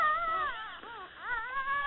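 Emily, a dog who has recently had puppies, whimpers in long, wavering high-pitched whines that rise and fall in two drawn-out cries, close and clear with no talking.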